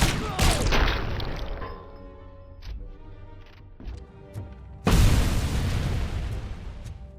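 Bombs go off in the RoboCop video game, a heavy boom followed by scattered sharp bursts and pops, then a second loud explosion with a long rumbling decay.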